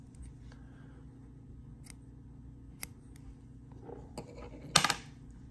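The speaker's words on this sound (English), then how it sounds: "Let's cut that off and see what we got left." Material for a bluegill, shellcracker and crappie fishing jig is snipped, with faint small clicks giving way to a short, sharp close-up cut near the end over a quiet background hum.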